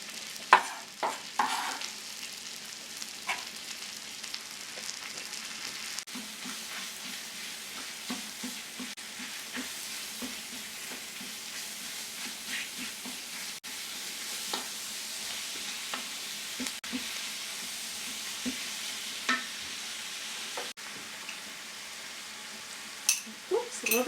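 Mushrooms, ground pork and vegetables sizzle and crackle steadily in a pan for paleo stuffing, with frequent scrapes and clacks of a spoon stirring, fairly close and moderately loud, no talking.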